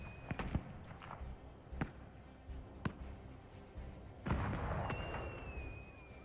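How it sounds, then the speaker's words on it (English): Fireworks show in Dragon Age: Inquisition, faint distant pops and bangs at scattered intervals with a thin whistling streak, all soft in the background. "fireworks are playing in the background right now"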